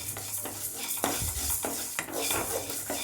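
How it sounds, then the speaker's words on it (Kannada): Kashaya spice ingredients dry-roast in a pan, stirred close up with continuous scraping and rustling strokes that rise and fall in a loose rhythm. "ಅದಕ್ಕೆ ಒಂದು ಸ್ವಲ್ಪ ಹುರ್ಕೊಳ್ಳೋಣ, ಸ್ವಲ್ಪ ಬಿಸಿ ಆಗಲಿ ಇದು."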